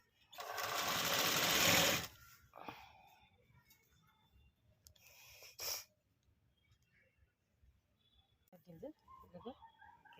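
A sewing machine stitches a readymade top in a loud, rapid run of about two seconds, then a shorter burst later, with quiet handling noises and someone speaking briefly near the end.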